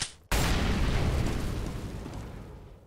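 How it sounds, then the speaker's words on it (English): Flashbang grenade detonating in the video game CS:GO, a single sharp loud blast after a brief quiet moment, followed by a long rumbling roar that slowly fades over a few seconds, with no talk. "I am throwing a flashbang."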